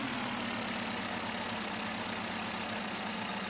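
A pickup truck engine in the driving game Pickup runs with a steady low rumble and broadband noise, changing gears through the shift from third to second, continuous and close with no talking.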